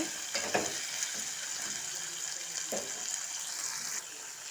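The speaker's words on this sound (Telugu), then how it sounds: "క్యాప్సికమ్ అనేది ఎలా మంచిగా నూనెలో వేగుతుందో చూసారా" Capsicum fries in oil in a pan, giving a continuous hissing sizzle with occasional stirring scrapes, close up and moderately quiet.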